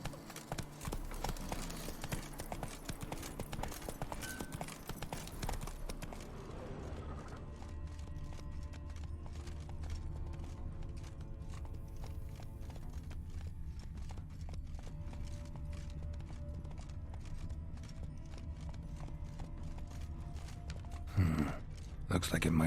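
Roach, Geralt's horse in The Witcher 3, trotting with steady rhythmic hoof clip-clops, loud and busy at first and then settling into a quieter regular gait, with brief voices and game ambience in the background.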